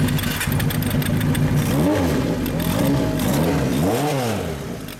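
A 1974 Kawasaki Z1A motorcycle fitted with a Yoshimura exhaust idles close by, then is revved twice in sharp rising-and-falling sweeps, the deep throaty exhaust note dominating throughout.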